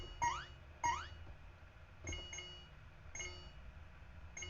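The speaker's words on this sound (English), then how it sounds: "So the two sounds are from the two different complex spikes." Sonified complex spikes from cerebellar neural recordings in a mouse, heard as sharp electronic beep-like pops at irregular intervals, two louder bursts early followed by softer ones, alone with no speech.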